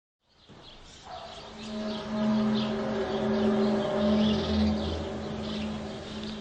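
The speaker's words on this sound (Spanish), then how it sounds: "Se escuchan los pájaros," Birds chirping and singing outdoors in a steady, mid-distance chorus, with a low rumbling drone building underneath after a quiet start and no talking.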